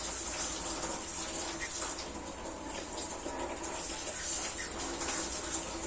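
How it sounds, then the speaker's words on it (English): Faint, steady hiss of water running from a tap, continuous and low, with no talking. "So next is to turn on the water and to adjust its force."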